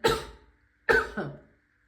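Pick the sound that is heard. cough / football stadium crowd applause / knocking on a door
cough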